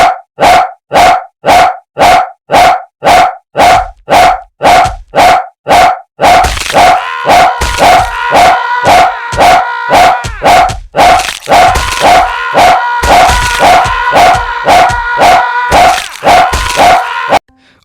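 A dog barks in a rapid, steady series of sharp yelps, then the barking continues amid a loud, busy wash of layered crowd sounds and noise in an indie bodyguard video game.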